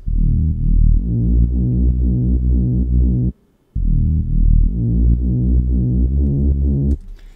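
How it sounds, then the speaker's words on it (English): Reese bass synth made from two detuned saw waves, a thick, loud, buzzing low drone that plays steady notes, breaks off briefly, then resumes with a slow, wobbling phasing. "the next bass is in the sort of intro and is more of a reese bass"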